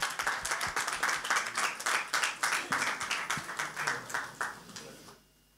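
Steady clapping from an audience at a Marathi film trailer launch event, a dense rhythmic patter of many hands that holds for several seconds before cutting off abruptly.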